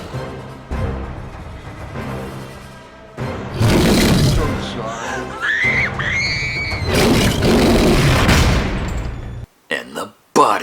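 Loud explosions and bursts of gunfire from the action film Jurassic City, with booming blasts and screams layered over a dense, chaotic soundtrack.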